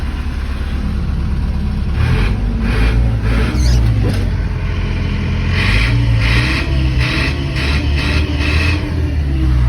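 The engine of a Claas Dominator 48 mini combine harvester runs loud and close, a rough mid-range drone that swells in short revving pulses over a steady rumble.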